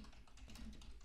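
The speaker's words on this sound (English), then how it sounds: "I'm going to type private" Rapid, steady clicking of a computer keyboard as code is typed into Android Studio, a continuous run of light keystrokes at close range with no talking.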